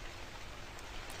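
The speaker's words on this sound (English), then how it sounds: "I think it's raining outside." Steady rain falls outside in a Japanese horror video game set at a convenience store at night, a faint, even hiss of drops with no voices.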